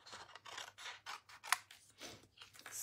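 Scissors cutting out stamped cardstock images, a close run of crisp snipping strokes in quick succession with a brief sharp click partway through.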